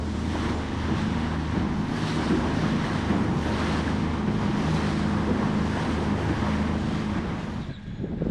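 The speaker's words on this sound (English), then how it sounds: "the wind kicked up quite a bit, and that's no fun" Strong, steady wind buffets the microphone over choppy waves slapping a small fishing boat on the Withlacoochee River, a dense continuous roar with no voices.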